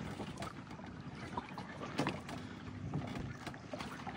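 Oars work a boat along the Matla river in the Sundarbans during a fishing trip, giving a faint, steady wash of water and paddle strokes with a low background rumble throughout.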